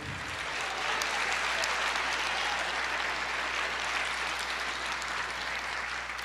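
Sustained, dense applause from a church congregation at a sermon on the three crosses, steady and full for the whole stretch with no talk over it.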